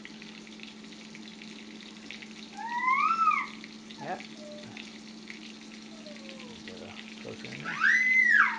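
Steady sizzle of venison burgers frying in a pan runs throughout, with a brief word spoken and a few high, bird-like squeals from a child in the background.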